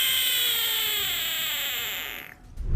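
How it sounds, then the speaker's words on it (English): A puffed-up Budgett's frog lets out a loud, sustained, high, harmonic scream as a threat warning, holding steady for over two seconds before breaking off abruptly into a low rumble. "When threatened, it will puff up and emit loud screams as a warning."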